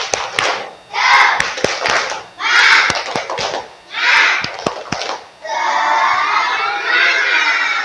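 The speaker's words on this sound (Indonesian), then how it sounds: "Masih ingat dengan tepuk semangat?" Schoolchildren in a classroom perform a tepuk semangat clapping chant, shouting rhythmic phrases in loud group bursts punctuated by sharp unison claps, then ending in a sustained collective shout.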